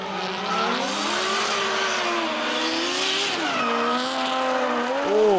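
Race cars power at full throttle out of a switchback onto the straight, engines wailing and shifting pitch as they pass, with tyre squeal, loud and continuous.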